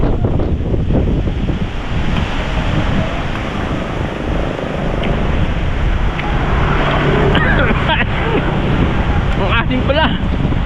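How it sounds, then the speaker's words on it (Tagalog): Strong wind roaring and buffeting the microphone continuously, loud and close, with a voice talking underneath. "Grabe, sobrang lakas ng hangin."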